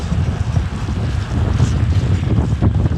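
Wind roars steadily and loudly across a cyclist's microphone on a rainy 200 km road and gravel brevet near Kiel, a constant close buffeting rush with no talk.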